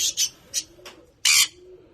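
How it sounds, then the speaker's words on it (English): Rescued pigeons and house birds give short, breathy calls and squawks in a few separate bursts, the loudest near the end, with a faint soft tone running beneath them. "These are all rescued birds"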